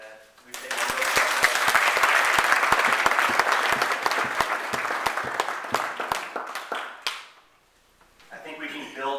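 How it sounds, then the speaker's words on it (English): Audience applause at an association's presidential installation, crisp individual claps building into a full round that gradually thins and fades out, followed by a brief voice near the end. "I think he should be applauded for that."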